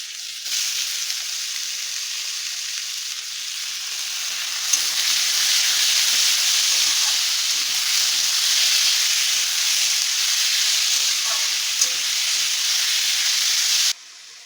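Cut ash gourd sizzles steadily in hot oil with fried moong dal, a loud, even hiss that begins suddenly, swells slightly when the vegetable goes in, and stops abruptly near the end.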